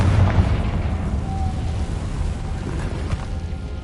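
A Confringo fire spell from the Hogwarts Legacy video game bursts with a dense, sustained rumbling blast, loud and close, its boom washing across the whole moment with no pause.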